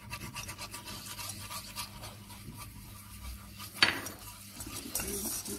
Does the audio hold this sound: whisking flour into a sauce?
yes